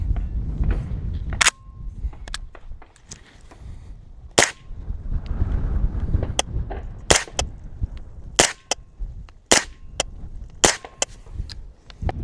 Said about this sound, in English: we are going to shoot some semi-auto just to see how much more quiet this roller delay